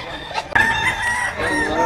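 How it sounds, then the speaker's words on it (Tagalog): Gamefowl at a cockfighting rooster market in Grotto, Bulacan crow and cluck, with a sharp crow near the middle and steady clucking around it, close and fairly loud under faint background chatter. "mga manok po ni Boss Jojo"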